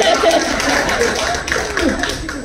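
Hand clapping at a Marathi television serial launch event, a run of sharp claps mixed with crowd noise and voices in the background.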